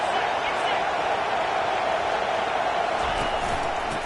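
A large football stadium crowd roars steadily behind the defense on a third down, a dense continuous wash of cheering with no breaks.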